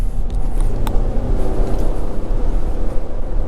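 A lifted truck on Nitto Ridge Grappler tires accelerates hard on a wet road in the rain, giving a loud, steady engine roar with road and spray noise throughout, no voices.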